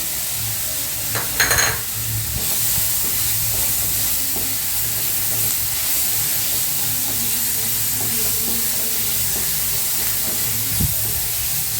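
Mutton spleen pieces frying in a pan with salt, a continuous loud sizzle and hiss with a few clinks of a spoon early on, steady throughout and no talking.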